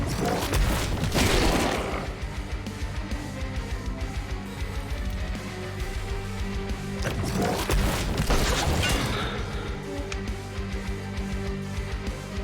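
Gun firing in The Last Spell: heavy booming blasts burst loudly at the start and again midway, with crashing impacts and a musical game background between them.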